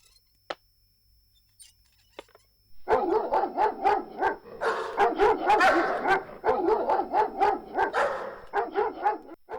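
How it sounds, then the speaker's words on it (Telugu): Several dogs bark in quick, repeated bursts close by. The barking starts after a couple of seconds of near quiet and carries on loud to the end. "కుక్కలేంటి అలా మొరుగుతూనే ఉన్నాయి అసలు?"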